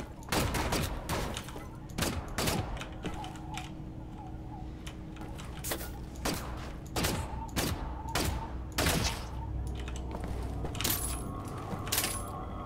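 Gunfire rings out in the video game Wolfenstein The New Order. Repeated sharp shots come in an uneven rhythm over a steady background, with metallic clinks between bursts and no talk.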